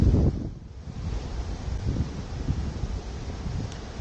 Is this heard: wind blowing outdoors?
yes